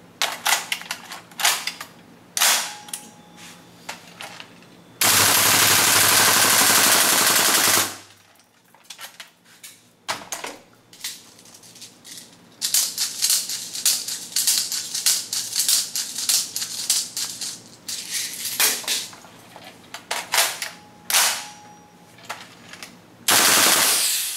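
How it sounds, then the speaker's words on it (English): A gas blowback airsoft gun fitted with a new magazine fires in full auto, giving rapid mechanical clatter in repeated bursts, near and loud. A long hissing gas blast runs between the bursts, and quieter clicks fall in the pauses. "And now we want to test the new magazine in full auto mode."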